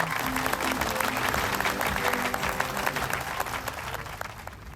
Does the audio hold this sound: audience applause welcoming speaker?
yes